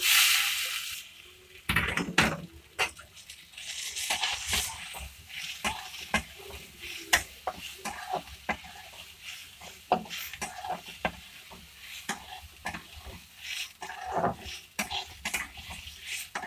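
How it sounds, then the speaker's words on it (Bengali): Washed rice fries with whole spices in hot oil in a kadai, a gentle sizzle under repeated scraping stirs of a spatula against the pan, close and fairly loud. "চালটা একটু ভেজে নেব"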